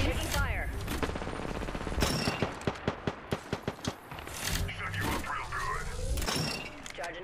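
Gunfire in the Apex Legends video game during a ranked match: rapid bursts and single cracking shots mixed with impacts, loud and close, while players talk over the action.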